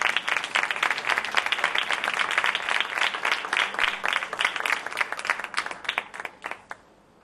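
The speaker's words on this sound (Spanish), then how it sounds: "Un aplauso para ellos." An audience at a flamenco conference-recital at la Choza de Juanequín gives sustained applause, dense overlapping claps that stay loud throughout and thin out near the end.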